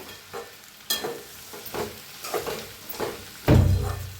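A potato and bean vegetable curry cooked without water is stirred in a pan, with soft sizzling, spaced spatula scrapes and a louder scrape at the end.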